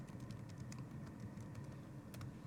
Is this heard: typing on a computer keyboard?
yes